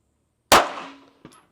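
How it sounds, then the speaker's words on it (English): A single sharp shot from a Canik Mete MC9L pistol at the range cracks loudly and close, its echo fading over half a second, followed by a brief metallic clink. "I'm shooting in the same place."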